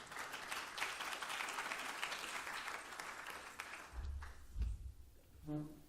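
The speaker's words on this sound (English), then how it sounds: "let's give a warm round of applause for Malika Whitley" A warm round of audience applause for a young adult artist at an advocacy art talk in Atlanta, full crowd clapping that gradually thins and fades, with some low thumps and a brief voice near the end.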